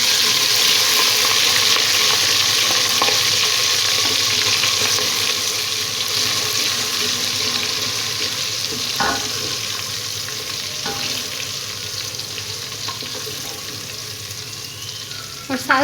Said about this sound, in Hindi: देगची में मैंने तकरीबन हाफ़ कप ऑयल ले लिया है और इसको मैंने गरम कर लिया। अब मैं इसमें लहसुन अदरक का पेस्ट शामिल करूँगी।